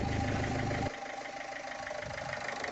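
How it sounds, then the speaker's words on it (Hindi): A Ford TDCI diesel engine, running without its V-belt, fires up and settles into a steady idle with a loud start that drops to an even, slightly knocking idle. "अभी इंजन को स्टार्ट करके देखते हैं वी बेल्ट लगाने से पहला।"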